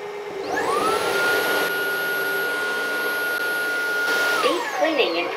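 A UWANT D100 wet-dry floor vacuum runs steadily and loudly through a washing and dirty-water suction cycle, a continuous motor drone with a rising whine at the start and a falling tone near the end, no talk.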